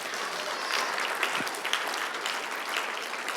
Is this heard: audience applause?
yes